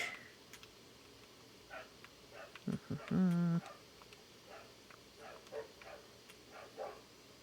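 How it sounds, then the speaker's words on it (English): A neighbor's dogs bark a few short times at a distance, faint against a quiet background with scattered soft game sounds. "the neighbor's dogs have decided to start barking"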